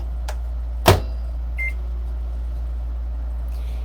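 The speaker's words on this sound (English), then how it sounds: "so I'm gonna pop this in the microwave and tell you a story." A microwave oven hums steadily at a low pitch, broken by one sharp click and then a short, single electronic beep a moment later.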